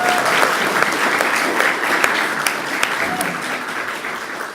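An audience at a British Islam event applauds a project lead. The clapping is steady and dense from start to finish, loud and close, with no voices over it.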